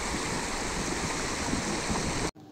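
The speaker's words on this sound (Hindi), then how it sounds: "यहाँ पे बिल्कुल शोर नहीं है, बस यहाँ पे पानी के बहने की आवाज़ आ रही है।" A stream near Robbers Cave flows steadily in a broad, continuous rushing wash that is close and loud, then cuts off abruptly at the end, with no voices.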